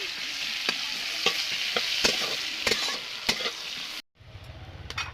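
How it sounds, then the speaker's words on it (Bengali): Chopped onion fries in oil in a wok with a steady broadband sizzle and repeated stirring scrapes, loud and close. It cuts off abruptly near the end, then returns more quietly with a low rumble. "পেঁয়াজ আগে টুকু ভাজে নেবো লাল লাল করে"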